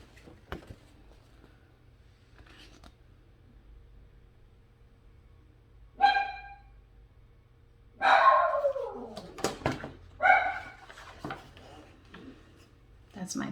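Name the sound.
puppy barking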